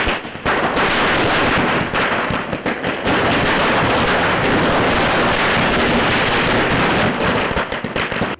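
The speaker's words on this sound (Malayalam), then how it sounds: "വടകര പുതിയ സ്റ്റാൻഡ് പരിസരത്ത് പ്രവർത്തകർ പടക്കം പൊട്ടിച്ച് ആഹ്ലാദം പ്രകടിപ്പിച്ചു" Firecrackers set off by party workers celebrating near a new bus stand in Vadakara, a loud, dense, nonstop rattle of close bursts crackling without pause from start to finish.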